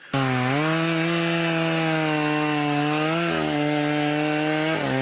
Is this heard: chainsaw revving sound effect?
yes